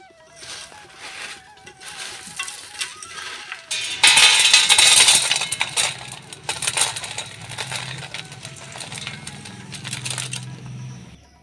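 Crisp fried besan bhujia being tossed together with fried curry leaves: dry, crunchy rattling and rustling close by, swelling louder about a third of the way through and continuing in irregular bursts.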